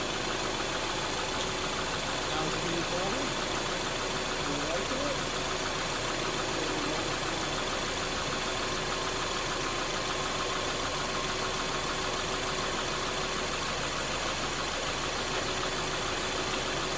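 A Subaru car engine idling with the air conditioning running, a steady continuous hum with faint cycling, unbroken for the whole stretch and with no talk.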